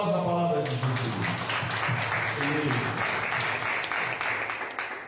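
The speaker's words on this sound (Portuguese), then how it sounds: "Vamos dar aplauso da palavra de Jesus." A church congregation breaks into applause after a sermon, a dense clapping wash that builds as a voice fades out at the start, then holds steady before tapering slightly at the end.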